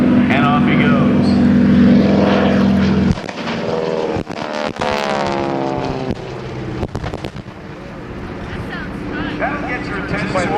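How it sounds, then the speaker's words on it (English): Military aircraft making a strafing run at the Blue Angels homecoming airshow at Naval Air Station Pensacola: a loud propeller roar sweeps past and fades, punctuated by sharp pyrotechnic bangs, then the engine drone returns. "Another strafing run. And off he goes."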